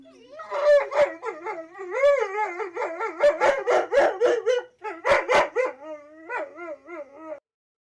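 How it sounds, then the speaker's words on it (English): A small dog barks, whines and howls in a continuous run of yips and wavering whimpers, loud and close, then stops abruptly. "Whiny little dog."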